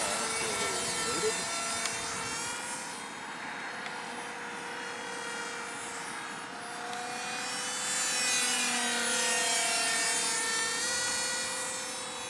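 A micro RC parkjet built as a Soviet Buran space shuttle whines steadily overhead, its electric motor tone shifting up and down as it flies inverted, a continuous buzz at moderate loudness.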